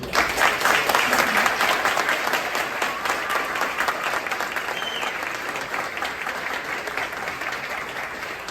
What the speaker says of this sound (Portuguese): então assim, uma salva de palmas aí.